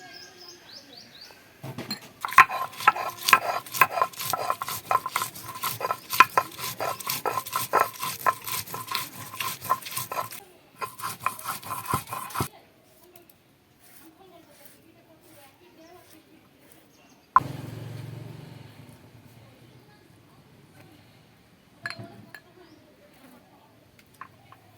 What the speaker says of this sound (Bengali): কাঁচা লঙ্কা বেটে নিচ্ছি।